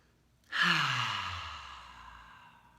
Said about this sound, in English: Wherever you're at right now, just take a deep breath.